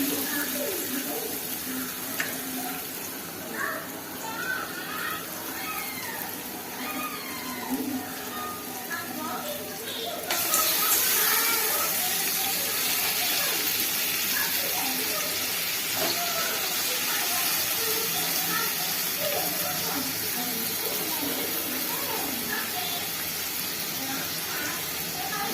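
Quail pieces added to hot oil for kaadai varuval, a Tamil fried quail dish, sizzle and hiss continuously, growing louder partway through, with speech heard over the frying.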